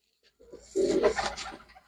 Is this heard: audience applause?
no